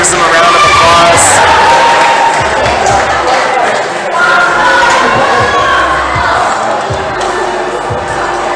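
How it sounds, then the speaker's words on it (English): Spectators at a provincial top rope climbing final clap and cheer for a climber after his fall, a loud sustained crowd roar with whoops, mixed with voices talking over it. "Crowd gives him a round of applause."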